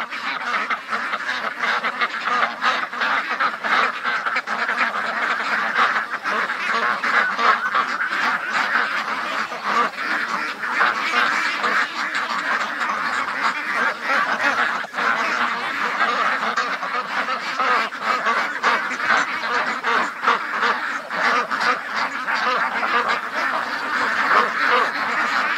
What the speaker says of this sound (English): They're swarming me. Hello, ducks.